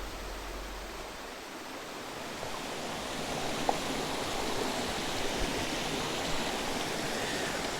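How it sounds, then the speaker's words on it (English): Steady rushing water from a set of waterfalls on a small North Georgia mountain stream in winter pours continuously, a broad even roar of falling water with no voices. "it's a pretty set of waterfalls in here"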